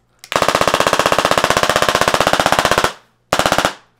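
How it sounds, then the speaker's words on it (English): A handheld Tesla gun shock device bought online zaps in a rapid, loud, evenly spaced crackling burst lasting about two and a half seconds, then a short second burst after a brief pause, with no talking. "This is a Tesla gun I got off of Amazon."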